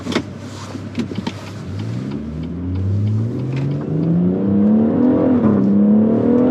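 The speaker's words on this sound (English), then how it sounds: "my 2018 BMW M140i Shadow Edition with 3 doors. 3-litre straight 6 turbocharged engine up front" A 2018 BMW M140i Shadow Edition three-door with a 3-litre turbocharged straight-six accelerates hard from inside the cabin, the engine note climbing steadily through the revs with a brief shift dip, loud and close without speech.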